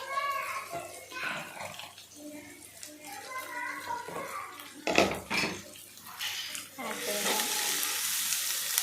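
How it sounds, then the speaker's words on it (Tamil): Chopped shallots sautéing with salt in a pan for a village-style goat intestine gravy: continuous frying sizzle and stirring scrapes, with a voice talking over parts of it and a louder hiss near the end. "நல்லா வதக்கி விட்டுக்கோங்க. வெங்காயம் வதங்க தேவையான அளவு உப்பு ஆட் பண்ணிக்கிறேன்."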